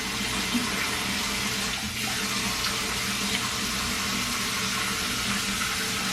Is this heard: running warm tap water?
yes